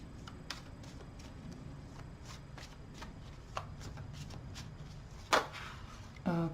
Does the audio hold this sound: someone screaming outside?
no